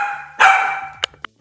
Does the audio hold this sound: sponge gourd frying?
no